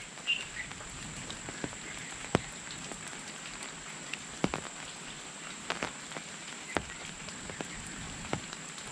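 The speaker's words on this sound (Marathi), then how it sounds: "पानांवरून आहे ना थेंब हळूहळू खाली येत आहेत तर टप टप टप असा बघा आवाज येत असेल" Slow raindrops drip from leaves during monsoon rain in rural Konkan, landing as scattered distinct taps over a soft steady wash of rain, with no voices.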